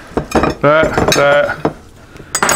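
Frozen Salisbury steak patties are clattered into a Pyrex glass dish, with clinking and scraping of cookware mixed in under a person talking nearby.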